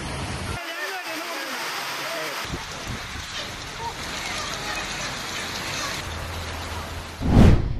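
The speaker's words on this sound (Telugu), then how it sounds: "వర్షం భారీగా కురిసింది" Heavy city rain in Hyderabad pours down as a steady, dense hiss, with a voice talking over it in places and a brief louder rush near the end.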